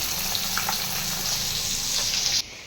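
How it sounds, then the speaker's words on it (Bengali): Steady, loud sizzling of fish frying in hot oil in a wok, continuous and close, cutting off abruptly near the end. "এখন মাছটা ভেজে নিচ্ছি"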